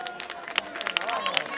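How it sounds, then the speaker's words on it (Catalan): An audience at a town carnival opening claps and cheers, a lively patter of hands with shouts and raised voices mixed in, close and busy throughout the short burst. "Un aplaudiment!"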